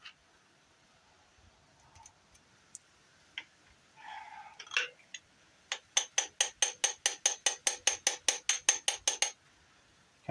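Quiet scattered clicks, then a quick, even run of about fifteen sharp metallic hammer taps on a stud of a blown-up Chrysler 318 V8 engine from a Dodge Ramcharger, close up and with no speech.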